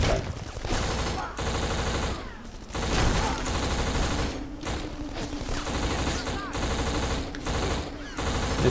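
AK rifle gunfire in the Xbox shooter Black, loud bursts of automatic fire with short pauses between them, mixed with game effects and some background voice.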